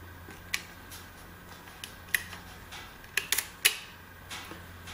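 Mechanism of a Franka Solida I folding camera, a linkage working the shutter, giving several sharp close clicks at irregular spacing, a few in quick succession, over a quiet background.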